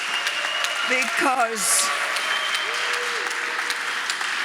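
Symposium audience applause for a moderator, a dense patter of clapping heard under a speaker's voice at the mic for the whole short span.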